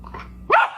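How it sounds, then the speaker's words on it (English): A dog gives a single sharp, loud bark after a stretch of quieter low rumbling and a soft yip, close to the microphone. "That's the cutest dog."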